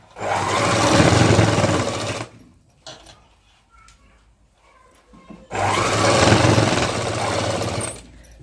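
A sewing machine runs a straight seam along marked lines on a long frock's lining. There are two steady, loud bursts of stitching with a quiet pause of small handling sounds between them, and no talking.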